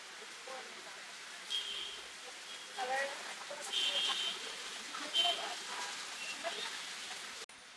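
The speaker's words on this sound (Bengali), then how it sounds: "আনফরচুনেটলি বৃষ্টি পড়তেছে এখন" Rain falling on a street during a student protest where walls are being painted with slogans: a steady, even hiss of rainfall throughout, with a person speaking over it.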